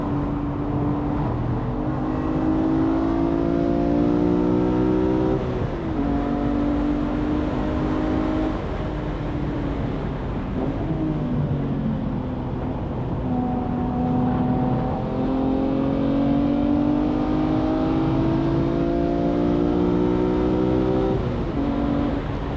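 A BMW M3 E46 with MCS coilovers laps a race track, its engine climbing through the revs in repeated pulls with brief dips at each gear change, steady and close for over twenty seconds.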